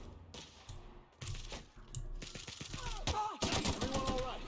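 A powerful gun fires at robots and marauders in The Outer Worlds, its shots rattling off in rapid, dense bursts alongside sharp metallic clinks, loud and close.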